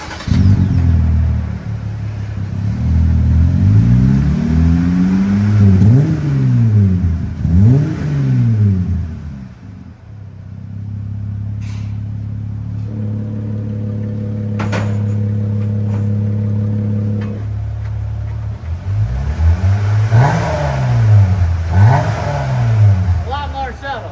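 A Jeep Gladiator fitted with an 18-inch MagnaFlow muffler revs repeatedly, its engine swelling and falling in rhythmic pulls, then settles into a steady idle before revving again, loud and close, with voices talking in between.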